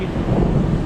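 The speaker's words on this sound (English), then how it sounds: "and it's thundering." A deep, continuous rumble of thunder rolls steadily over Philadelphia, low and loud, with a faint hiss of rain beneath it.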